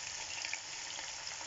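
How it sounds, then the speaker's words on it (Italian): Water pours into a Magic Cooker pot holding pasta for spaghetti alla carbonara, giving a steady, hissing splash that runs without pause for a moment. "Li metto l'acqua"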